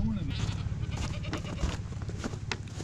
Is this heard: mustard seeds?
no